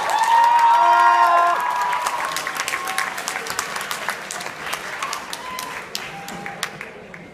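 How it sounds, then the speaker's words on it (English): A debate audience bursts into applause and cheering for a speaker, opening with loud whoops and whistles over dense clapping that gradually thins into scattered claps near the listener. "everyone make some noise for the last speaker on the affirmative team"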